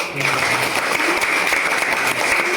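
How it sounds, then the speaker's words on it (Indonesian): A church congregation claps in loud, dense applause that carries on steadily for the whole stretch, with a faint voice underneath. "Tepuk tangan buat Tuhan."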